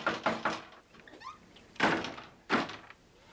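A door opened without a knock, heard as a few scraping thuds and rattles with squeaky handling, then two louder bursts of movement and impact, fairly close with no talk.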